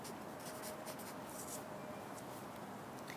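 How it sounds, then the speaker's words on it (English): Pen scratching on paper while a wind measurement is written down by hand outdoors, a faint continuous scribble over a steady background hiss. "So we would go ahead and write that down."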